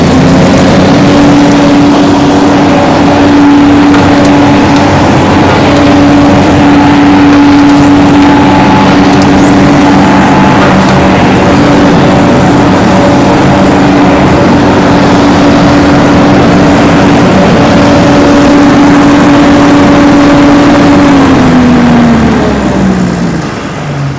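A 2008 Finn B70 skid-mounted straw blower with a Kubota diesel engine runs loud and steady as the throttle comes up, a strong droning hum with a held engine tone that dips slightly near the end.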